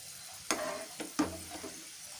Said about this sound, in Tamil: ஸோ நல்லா இது எண்ணெயில் ஃப்ரை ஆகும் இப்போது.